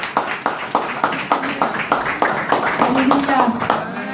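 A church congregation at a Sunday service claps in a steady, rhythmic beat to welcome the pastor forward, each clap distinct and evenly spaced, with voices heard over the clapping.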